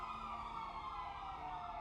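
A continuous wailing emergency siren in the video game GTA V, steady and fairly faint, filling the whole stretch without pause.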